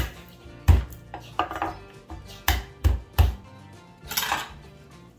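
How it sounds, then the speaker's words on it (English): Garlic cloves smashed to peel them, several sharp thuds of a blade or hand on a cutting board, spaced unevenly and close, with a light clatter after some strikes. "I want to give it a good smash."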